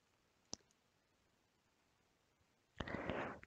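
A computer mouse gives a single sharp click in a quiet room, followed a couple of seconds later by a brief burst of clicking and soft rustling handling noise.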